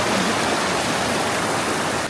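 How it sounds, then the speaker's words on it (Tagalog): Small cascade of the baby falls at Ditumabo in San Luis, Aurora, a steady broadband rush of falling water, close and continuous throughout. "Ayun yung baby falls."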